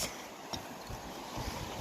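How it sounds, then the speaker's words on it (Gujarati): A flooded river rushing after heavy rain makes a faint, steady wash of churning water, with wind buffeting the microphone and a few soft thumps in the short stretch. "ભયંકર પાણી જાય છે યાર ભયંકર"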